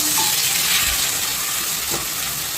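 Tomatoes dropped into a pan of sautéed small shallots while cooking sambar, giving a steady broadband sizzle with a soft low thump near one second and another light clatter near two seconds; no talking.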